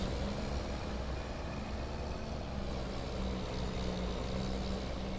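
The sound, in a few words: cars passing in Farming Simulator 25 video game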